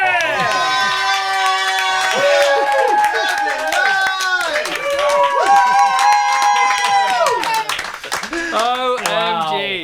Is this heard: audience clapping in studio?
yes